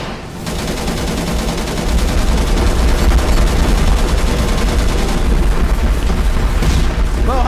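Missiles launch and burst in the space-combat game Angels Fall First, a dense, continuous barrage of rapid gunfire-like cracks and booms that stays loud throughout, with no talking.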